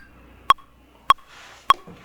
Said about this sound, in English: I'm going to put on my metronome